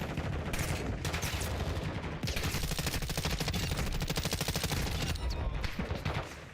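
Dense, rapid gunfire in Black Ops 6, a near-continuous rattle of automatic shots, loud and close, with a brief dip in the middle before the firing resumes without talking.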